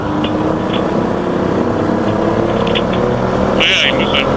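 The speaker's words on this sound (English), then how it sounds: "I hear the bike." Motorcycle engine drone recorded while riding in a five-rider group ride, a steady loud rumble with wind noise and occasional revving, with people talking over it.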